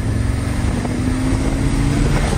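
A tuned 2024 Audi S3 accelerates at half throttle while cruising in drive mode, a steady engine drone with road and wind rush heard from inside the car, constant and fairly loud.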